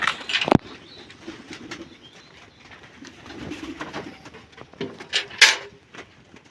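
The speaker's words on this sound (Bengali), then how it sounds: "দিদিভাই গেট খুলে পায়রা জল দেবে, কেমন চঙ্কর মেরে খাবে দেখুন" Pigeons at a rooftop water spot after a gate is opened, with a sharp knock or clatter at the start, soft cooing and bursts of wing flapping, and a few brief chirps later.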